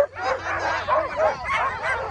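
Sled dogs at an UP200 sled dog race yip, whine and bark continuously, fairly close and excited, with faint voices in the background.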